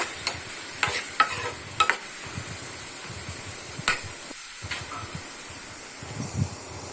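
Green chillies and onions being stirred in a hot oiled pan, a soft steady sizzle broken by scattered scraping clinks of the spoon against the pan, close and fairly quiet with no talking.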